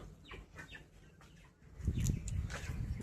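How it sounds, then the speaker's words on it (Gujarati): Soft clucks from a caught rooster close by as it is tied and weighed, with rustling and a low thumping handling noise in the second half. "પકડાઈ ગયું છે કુકડું."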